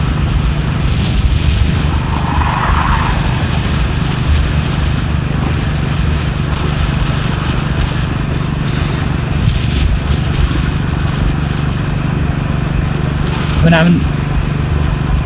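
Steady motorcycle engine drone and wind rush on an open road ride to a dam, continuous and close throughout, with a passing whine near the end.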